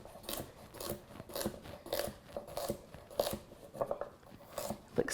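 A knife roughly chops carrots on a board, a steady series of crunchy cutting strokes about every half second, close and fairly clear with no talk.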